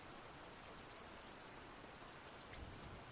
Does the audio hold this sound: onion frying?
no